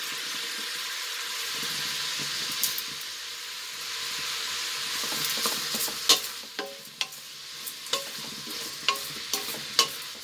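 Rice for tomato biryani sautéing in a pan, a continuous bright sizzle with repeated scraping stirs and sharp ladle taps growing more frequent toward the end.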